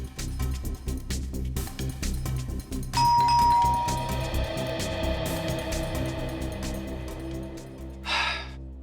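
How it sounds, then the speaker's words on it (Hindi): Doorbell ringing indoors in a Hindi crime drama scene, a sustained electronic chime tone starting partway through over a steady background music bed, followed by a short sharp breathy sound near the end. "आप एक बार और घंटी बजाने का कष्ट करेंगे?"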